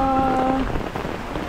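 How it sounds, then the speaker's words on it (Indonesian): Heavy rain falling in Mecca, a dense steady hiss of drops on hard surfaces, with a brief tonal hum at the start fading under the downpour. "Ni barulah hujan dalam setengah jam lebat ni."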